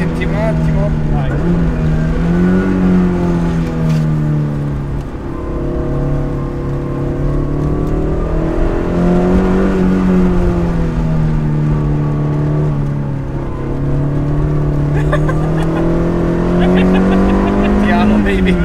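A Toyota AE86 engine revs close by, its loud drone rising and falling in slow sweeps across the whole stretch, with a steady rough mechanical rumble underneath.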